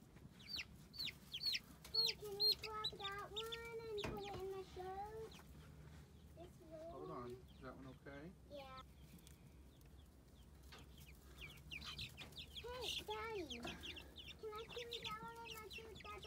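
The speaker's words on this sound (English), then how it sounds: "it's now time to move the chickens from in the house here out to their new home in the coop" Young chicks cluck and cheep close by while being carried from indoors out to a new coop, with a few louder calls and rustling handling noise among them.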